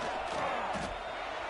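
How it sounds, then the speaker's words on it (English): A stadium crowd in a college football video game roars steadily during a field goal attempt, a dense, continuous wash of noise throughout. "This crowd trying to do its part to get inside the kicker's head."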